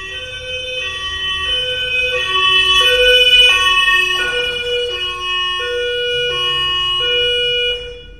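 Ambulance siren wailing loud and near on a city street, rising and falling in steady alternating tones for several seconds with faint traffic rumble beneath.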